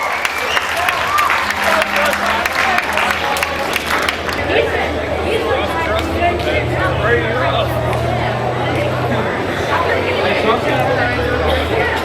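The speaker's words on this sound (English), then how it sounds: "Give that young man a big round of applause" A crowd at a rough truck event at the Harrison County Fair applauds steadily and loudly for the whole stretch, with background murmur and a low droning hum underneath.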